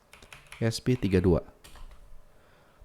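Quick clicking keystrokes as a URL is typed on a computer keyboard, a short burst of taps mixed with a voice speaking over it, followed by a few softer scattered taps.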